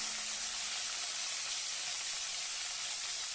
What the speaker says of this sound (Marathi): अर्धा टोमॅटो कट केलेला तो घालूया आणि छान त्याची तेलामध्ये परतून घेऊया